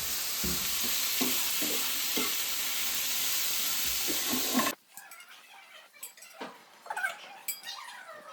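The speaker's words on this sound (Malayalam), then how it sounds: "കൂണ് പറ്റിച്ചെടുക്കാം. മഞ്ഞപ്പൊടിയും ഉപ്പും പച്ചമുളകും ഉള്ളിയും തേങ്ങയും കൂണും." Mushrooms with turmeric, salt, green chili, onion and coconut crackle and sizzle in a pan with scraping stirs, then the frying stops abruptly and only faint clinks and background household sounds remain.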